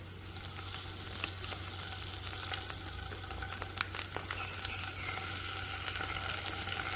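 Chopped garlic frying with soy sauce in a pan for street-style gobi manchurian gives a steady, close sizzle dotted with small pops and faint utensil clicks, with no talking.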